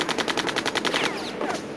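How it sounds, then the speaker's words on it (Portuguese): Rapid machine-gun bursts fire in a steady, fast rhythm during an ambush shootout between police and terrorists at an airport in Munich, 1972. The loud, sharp shots run continuously, then thin out into a few scattered reports. "Começa então um tiroteio."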